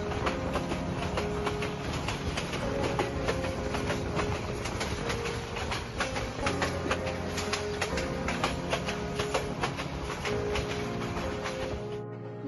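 The Tista Express passenger train on the Mymensingh to Dhaka line runs through Gafargaon railway station, a loud, steady rumble of wheels and carriages with rhythmic rail clatter lasting throughout, with no talking.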